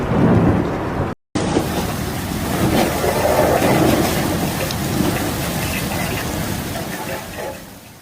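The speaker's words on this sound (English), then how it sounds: "Over the past 24 hours, intense thunderstorms, torrential rainfall, and strong winds have battered the region." Thunderstorm with heavy rain and strong wind over a desert city, a steady loud wash of rain and rumbling thunder throughout, with a brief dropout near the start.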